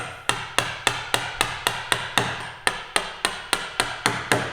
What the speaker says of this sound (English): pop the chisel into the gauge line